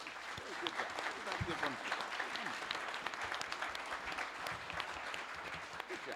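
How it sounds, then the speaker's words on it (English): A crowd applauds steadily throughout for a media panel, the clapping somewhat distant, with voices mixed in beneath it. "Let's give a round of applause to the panelists."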